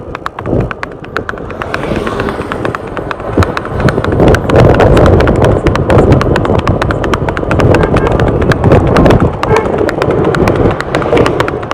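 A mare fitted with new horseshoes moves along a dirt track with a rider, her hooves clip-clopping in a steady, close, continuous rhythm with some wind rumble throughout.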